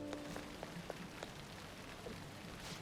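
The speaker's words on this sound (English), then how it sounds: "Since it's raining, I guess." Steady rain in the video game Persona 5 Royal, a soft continuous patter with scattered faint drop ticks, quiet and even throughout with no one talking.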